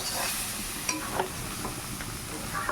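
Cooked dal being stirred in a pot, soft scraping strokes and a few light clinks over a steady sizzling hiss, close and fairly quiet.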